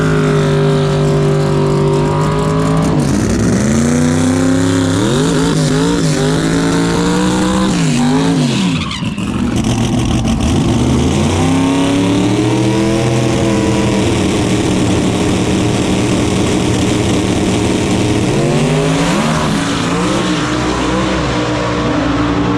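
Drag race cars on 275 tyres at a street racing shootout, loud engines revving and screaming through rising gear changes, with a brief pause before another sustained full-throttle run, close and continuous.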